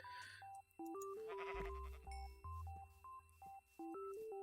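Sheep bleating in Minecraft, a few short bleats standing out over a steady melodic game music tune of plucked notes that runs throughout.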